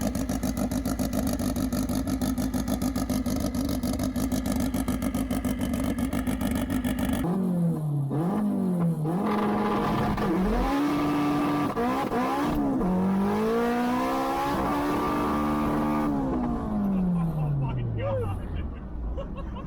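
Modified Mitsubishi Lancer Evo X of roughly 875 wheel horsepower, heard from inside as a loud steady idle-like drone, then hard acceleration with the engine note climbing and dropping through gear shifts and a long falling decel, close and dominant.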